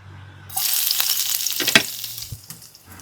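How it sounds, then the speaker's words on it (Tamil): Garlic hits very hot oil in a pan and bursts into a loud, close sizzle that rises suddenly after a short quiet moment. The frying then crackles and spits on, with a few stirring knocks against the pan. "எண்ணெய் பார்த்திங்கன்னா நல்லா சூடாகிட்டு இதுக்குள்ளே நாங்கள் உள்ளியை சேர்த்துக்கொள்ளுவோம்"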